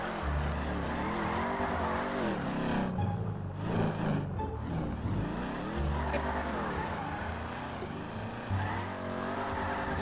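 A car drifts in GTA 5 roleplay, its engine droning and rising and falling in pitch as it revs through slides, with tires hissing and squealing; no one speaks over it.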